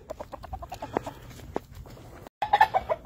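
Several hens, green-legged gray pullets, cluck in quick, uneven bursts nearby with a rooster, with a brief pause before louder clucking and squawks resume.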